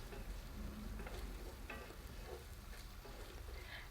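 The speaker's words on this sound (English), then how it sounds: "So then I'm going to stir it and leave it to fry for about 2 to 3 minutes." Brown onion frying in a pan and being stirred, a steady close sizzle running throughout with occasional soft scrapes of stirring, no voices.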